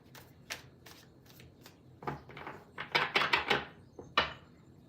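Tarot cards are shuffled close up in quiet, with soft scattered riffles and flicks building into a quicker burst of crisp card slaps.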